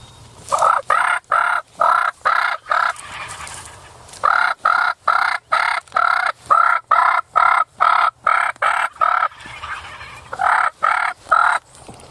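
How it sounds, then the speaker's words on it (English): Turkeys gobble in rapid rattling bursts, several birds calling over one another in repeated volleys with short pauses between, loud and fairly close outdoors. "I've never seen this many gobblers and many jakes on public land."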